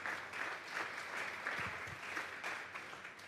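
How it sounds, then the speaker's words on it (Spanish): Congregation at a Sunday church service giving a strong round of applause, steady dense clapping that fills the room, with a faint voice underneath. "Vamos a darle un fuerte aplauso pues al Señor esta tarde."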